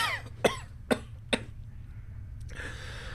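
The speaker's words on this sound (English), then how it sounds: "the movement suddenly sends him into a bout of coughing" Three sharp, evenly spaced coughs from a character in the video game Planescape Torment, followed by a quiet pause and then a soft, breathy noise.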